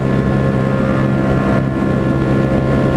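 Constant loud roar of a motorcycle at riding speed, with heavy wind buffeting mixed into a steady engine drone, close and unbroken with no voices.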